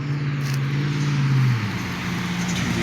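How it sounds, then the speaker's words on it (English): A car passes on a road through woods at night, a steady low engine and tire hum rising slightly to a peak near the middle and then easing off as it moves away, with no voices. "When this car passes, I'll give you a good listen to"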